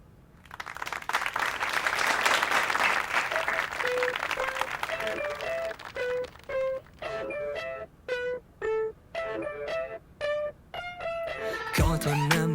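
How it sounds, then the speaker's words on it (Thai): An audience claps for a performer at a stage show, a dense wash of applause that swells then fades as sung or spoken phrases over a microphone take over and break it into short gaps. "ขอเสียงปรบมือให้กับน้องแพทจิด้วยครับ"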